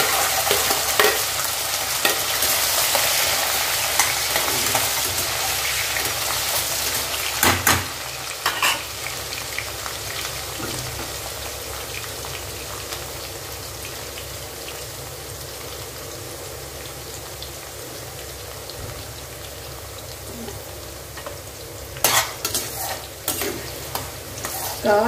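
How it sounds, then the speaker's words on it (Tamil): Chopped vegetables sauté in an open pan of oil for pickle, a constant crackling sizzle with occasional scrapes and knocks of a stirring spoon, close up and without speech. "காய்கறிகள் இந்த எண்ணெயிலேயே வதங்கி வரணுங்க"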